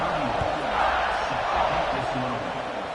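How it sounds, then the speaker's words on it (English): Stadium crowd in the NCAA 26 college football video game buzzing after a score ahead of a kickoff: a dense, steady roar that swells slightly and holds at a constant, fairly loud level throughout. "this crowd is buzzing after that last score"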